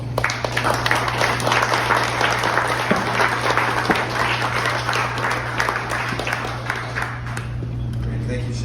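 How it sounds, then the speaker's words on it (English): A crowd applauds steadily at a restaurant's 33rd anniversary celebration, a loud sustained wash of clapping with scattered cheers and murmuring voices that tapers off near the end, over a steady low hum. "I want another round of applause for our mayor."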